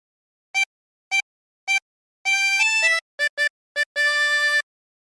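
Harmonica playing a short phrase from a song, three short separate notes followed by a longer held note and a quick run of brief notes ending on a sustained tone, clean and close with no talking.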